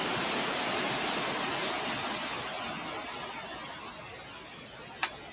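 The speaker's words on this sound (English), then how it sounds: "You can actually throw the white noise in there to help it." Steady hiss of white noise played for spirit communication, broadband and even throughout, with one brief sharp click near the end.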